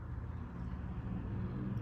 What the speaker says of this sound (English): I do apologize if you can hear any of the traffic on in the background. It is now rush hour